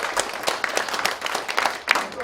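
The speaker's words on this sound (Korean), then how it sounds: "박수 한번 쳐주세요" Applause from a church congregation at a pastor's installation thanksgiving service, a steady patter of many hands clapping at moderate level with voices mixed in.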